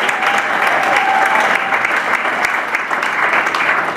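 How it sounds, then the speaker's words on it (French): A church service audience applauds a doctor with steady, sustained clapping from many hands, dense and continuous throughout, with no speech over it. "Can we clap for him?"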